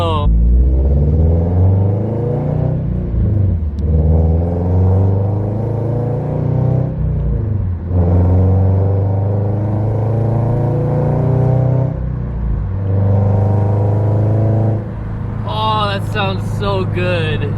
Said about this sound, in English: It's like a very tame, nice Subaru Rumble.